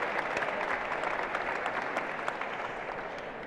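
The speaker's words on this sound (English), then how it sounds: "that deserves a round of applause to the Mexican government" Audience at a global summit in the Palacio de Minería claps in sustained, dense applause, steady and fairly loud, fading slightly toward the end, with no talk.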